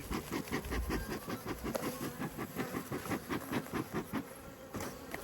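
Honeybees buzzing at an open hive during an apiary inspection, a close, steady drone with a rhythmic pulsing texture throughout.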